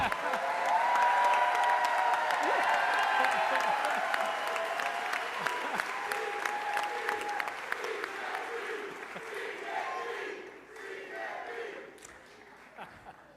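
Audience applause mixed with loud cheering and whooping at a St. Louis soccer team press conference, a dense crowd roar that swells and then gradually thins out, with voices calling out through it.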